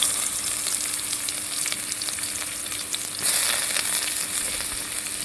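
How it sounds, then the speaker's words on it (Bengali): Steady hiss and crackle of onions with bay leaves frying in hot oil in a wok, continuous and close, with a brief louder sizzle partway through; no voices. "পেঁয়াজটাকে আমি বাদামি করে ভেজে নেব"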